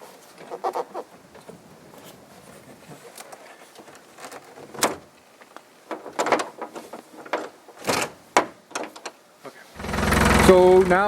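A Land Rover Defender engine rumbles in close and loud at idle for the last second or so, after a stretch of quiet rustling and knocking handling noises.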